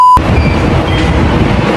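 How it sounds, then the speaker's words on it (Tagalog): MRT metro train in Manila rumbling steadily with low, continuous rolling noise, opened by a brief electronic beep; no talking. "Dito na ako sa MRT."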